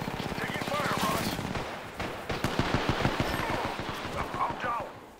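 Rapid gunfire in the Apex Legends video game: sharp, evenly spaced automatic shots in bursts, loud and close, alongside in-game voice lines.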